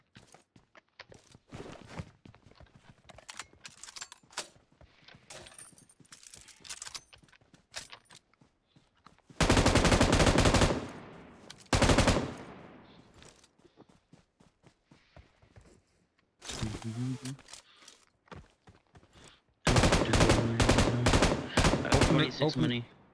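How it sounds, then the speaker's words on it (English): Gunfire in PUBG Mobile erupts in several loud, rapid automatic bursts between quieter stretches of footsteps and small clicks. "Who was he shooting at?"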